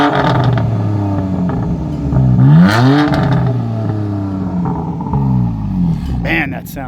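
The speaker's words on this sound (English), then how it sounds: "let's do a little bit more rev time" A BMW M4 Coupe with the Competition Package revving its engine up and down in a loud, close, throaty rise and fall, with people talking over the engine noise.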